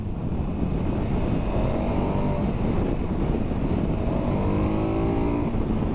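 A KTM 1290 Adventure motorcycle accelerates hard, its engine note climbing in pitch twice beneath a constant heavy roar of wind rush; no one speaks.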